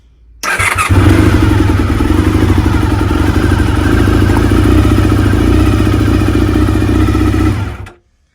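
A Honda VFR400 NC30 motorcycle engine with its rear spark plug pulled runs loud and close at a steady idle with a rough, clattering pulse, starting abruptly and cutting off after about seven seconds.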